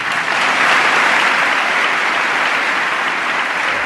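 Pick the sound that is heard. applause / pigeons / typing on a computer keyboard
applause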